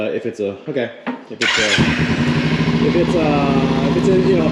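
Kawasaki Ninja 300 motorcycle engine in a custom go-kart cranks and fires up loudly at close range, settling into a steady, buzzy idle after a brief stretch of talking beforehand.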